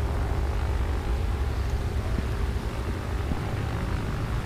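Warplane engines droning through a multi-aircraft dogfight in the video game World of Warplanes, a continuous dense low rumble with a steady propeller-like roar and no pauses.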